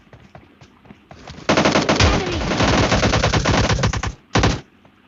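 M16 rifle firing in PUBG Mobile Lite, a long loud rapid burst of automatic gunfire lasting nearly three seconds, followed by a short second burst.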